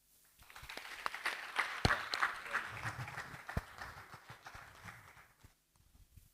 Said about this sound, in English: Please, let's clap again for our guest speakers.